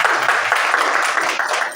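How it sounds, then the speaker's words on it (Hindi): A crowd applauding Babloo ji at a marketing plan seminar, dense clapping from many hands, loud and continuous across the short stretch. "बबलू जी के लिए जोरदार ताली होनी चाहिए।"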